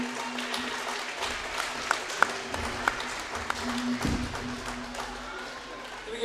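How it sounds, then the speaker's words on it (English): Applause for 3rd through 6th grade Columbus youth basketball teams at a game against Girard, a fairly faint scattered clapping with a few sharper individual claps and some crowd murmur and talk. "Give one more round of applause for your 3rd through 6th grade Columbus basketball teams"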